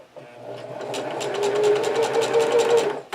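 A sewing machine stitches forward and then back over the same line in reverse, a close rapid mechanical whir that builds up and runs steadily with fast needle clatter, alone without talk.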